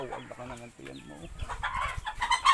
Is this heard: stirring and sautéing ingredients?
no